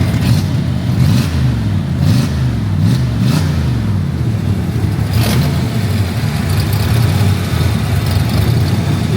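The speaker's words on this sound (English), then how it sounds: "Starts up good, sounds good. Go ahead, hit the accelerator." A 1965 Shelby's engine idles loudly and revs up a few times in quick succession, a deep, rumbling, close sound that stays strong throughout.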